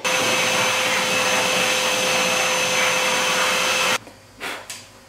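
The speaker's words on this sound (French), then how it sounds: "c'est parti pour le coup d'aspi derrière les grilles, qui prennent facilement la poussière et qui peuvent donc surchauffer" A vacuum cleaner sucks dust from behind a fridge's grilles, a loud steady whine with a high tonal hum for about four seconds before cutting off abruptly, followed by a couple of faint bumps.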